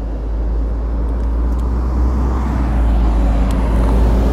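A bus rumbles past in traffic on Moscow's Garden Ring, heard from a bicycle, with a deep, steady engine drone and road noise that swells slightly toward the end.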